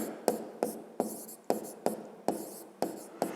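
Pen writing on paper up close, eight or nine short scratchy strokes in a quick, irregular rhythm, each a crisp tap followed by a brief scrape, in an otherwise quiet room.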